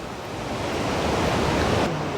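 Aharbal waterfall in Kashmir, a loud, continuous roar of rushing water heard up close, broadband and steady across the whole short stretch, with no voices.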